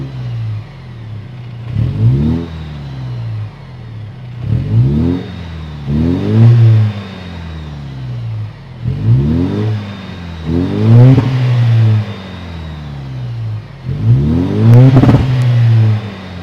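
A 2025 Toyota 4Runner TRD-Pro with a 2.4-liter iForce Max turbocharged four-cylinder hybrid engine revs loudly and close up, rising and falling in about six sharp throttle blips separated by idle.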